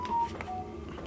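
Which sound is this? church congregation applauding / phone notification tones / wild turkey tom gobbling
phone notification tones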